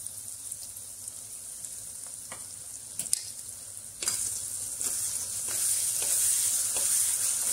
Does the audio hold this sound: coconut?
yes